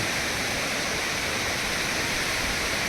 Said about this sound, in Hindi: और यहाँ से भी देख सकते हो पानी जो नीचे जाते हैं, ये देख सकते हो।